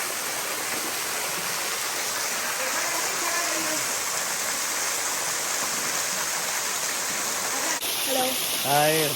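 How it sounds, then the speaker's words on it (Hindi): A waterfall in Mawsmai, Cherrapunji, Meghalaya, roars as a steady, broad, loud rush of falling water for the whole span, with a brief bird-like chirp or squeak near the end. "Just look at the waterfall"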